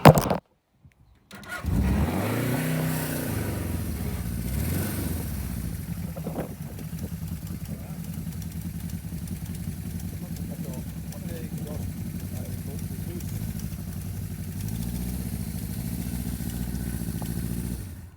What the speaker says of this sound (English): Here we have GS750, nice enough bike, and I can probably get it to start for you.